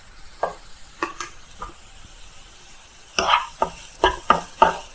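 Channa masala being sautéed in a pan with salt and turmeric, with a low background sizzle and a series of sharp spatula scrapes and stirring knocks, sparse at first and then quicker and louder in a close rhythmic cluster.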